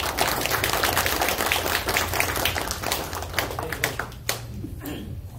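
Audience applause at a new-construction property seminar, a dense wash of clapping that thins out toward the end, with only a few scattered claps left.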